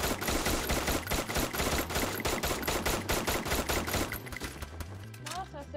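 Rapid automatic gunfire from the battle royale video game Free Fire, dense rattling bursts for about four seconds before thinning out, with the player's voice faintly under it.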